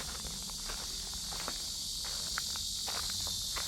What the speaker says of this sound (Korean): 매미 소리도 울창하게 울리고